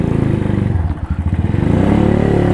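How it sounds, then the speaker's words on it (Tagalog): A Keeway CR152 motorcycle engine idling and revving close up, its worn cam chain or chain guide giving a loud, rapid mechanical clatter over the steady throb, with no talking. "Ingay ng makina ko. Maingay na yung cam chain ko."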